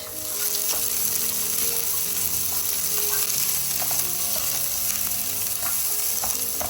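Onions dropped into hot oil with garlic in a pan, giving a loud, continuous close sizzle with faint crackles and spatters throughout.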